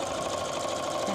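A home sewing machine stitching through quilt block fabric at steady speed, a continuous close, loud mechanical whir and rapid rhythmic chatter with no voices.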